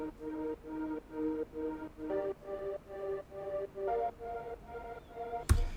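Sawtooth-wave synth patch built in Wavetable for a UK garage track, playing a steady rhythmic pattern of short chord stabs, moderately loud and alone, ending with a sharp percussive hit.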